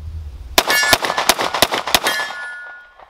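Five sharp shots from a Sig Sauer P320 AXG Scorpion pistol fire in quick succession at a shooting range, each a loud crack with metallic ringing, then a decaying echo.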